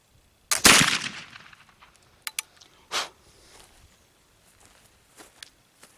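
A homemade black powder charge fires once in a loud, sharp crack early on, followed by a few fainter knocks and a distant thump, with quiet outdoor stillness between.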